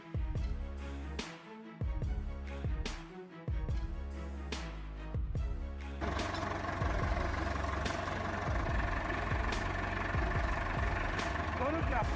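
A tractor engine runs under strain while pulling at a tree, a steady low rumble that grows denser and rougher in the second half, with talking heard over it early on.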